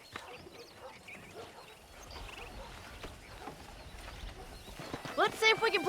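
Horse hooves clip-clop steadily in Red Dead Redemption while a ranch horse is being broken in, low and moderately loud beneath talking, with a brief whinny near the end.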